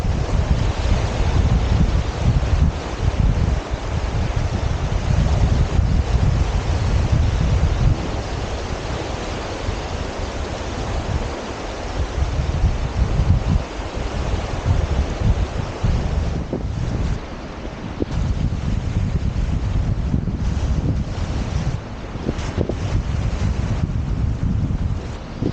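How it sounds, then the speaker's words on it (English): Wind gusts steadily across the Thames Estuary shore at Allhallows while waves break and wash in, a loud, continuous roar of rushing air and surf that fills the whole stretch with no voices. "The wind's also picked up and it's coming into my direction"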